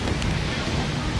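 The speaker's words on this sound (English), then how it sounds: "so now we're in Florida on vacation and we're at the beach." Steady wind and ocean surf roar at a Florida beach, a loud, continuous broadband rush with no pauses over a brief moment.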